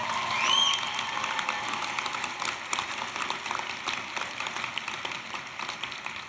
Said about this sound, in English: Let's give Ms. Williams a huge round of applause,